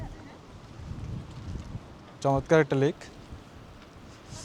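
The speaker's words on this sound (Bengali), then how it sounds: "কিন্তু বাতাস, এত বেশি বাতাস" Strong gusts buffet the microphone beside a lake with a low, rumbling rush, and a person briefly speaks midway through.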